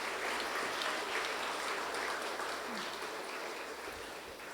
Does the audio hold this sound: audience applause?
yes